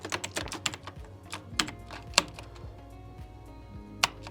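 Computer keyboard clatters with quick, close keystrokes in a terminal, starting in a fast run, then slowing to sparse taps and an occasional harder press of a key.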